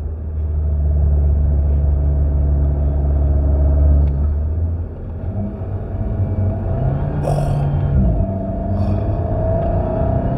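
An Alpine A110 S with a 1.8-litre four-cylinder engine growls loudly from inside the cabin while driving, then eases to a lower hum with a few brief clicks, and no one talks.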